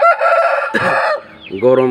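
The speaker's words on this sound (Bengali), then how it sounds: "অনেক হাইট বিগ সাইজ মোরগ" A young Aseel rooster of large size crows loudly and close by, a short harsh call broken into a few rising and falling parts.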